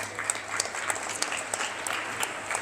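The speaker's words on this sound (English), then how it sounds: "Give him a round of applause." Audience applause from a crowd at a talk on sports and emotional intelligence, a steady patter of many hands clapping briefly, fairly close.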